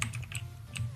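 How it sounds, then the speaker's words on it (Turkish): Rapid keystrokes on a computer keyboard while playing a Minecraft Hunger Games match, a close run of sharp clicks in quick succession over a low background hum. "şu klavye sesi çok hoşuma gidiyor ya"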